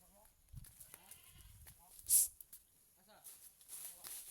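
A goat bleats in a short burst near the middle, with soft rustling and quiet voices around it at a farm.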